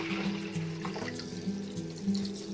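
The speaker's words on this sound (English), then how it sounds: "first add water" Water runs steadily into a cooking pot to parboil rice for egg biryani, a continuous close pouring and filling sound with a low ringing tone, alone without speech.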